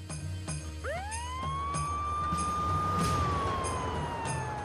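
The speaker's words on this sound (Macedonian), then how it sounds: "Амбулантното возило кој излезе се враќа заедно со оклопно војничко возило." An ambulance siren sweeps up and holds a long rising wail, moderately distant, over a low rumble from an armoured military vehicle; no speech.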